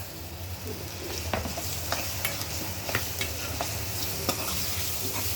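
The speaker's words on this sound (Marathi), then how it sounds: "आता त्याच्यात आपण कांदा टाकतोय" Chopped onion frying in a hot pan for keema, a soft continuous sizzle with scattered clicks and scrapes of a stirring spoon, fairly quiet and close.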